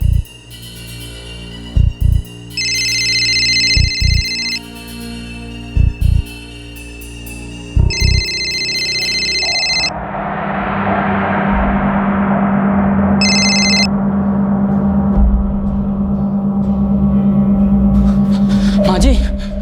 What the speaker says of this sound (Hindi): रिंग तो ऊपर ही बज रही है